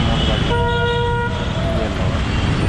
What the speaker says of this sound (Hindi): थोड़ा हॉर्न की नॉइज़ ज़्यादा आ रही है दोनों गाड़ी